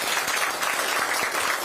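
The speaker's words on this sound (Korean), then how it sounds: "격려의 큰 박수 좀 부탁을 드립니다." Applause at a Korean party leadership meeting held on site, a continuous wash of many hands clapping at a steady level, with a few crisp individual claps poking through the crowd noise.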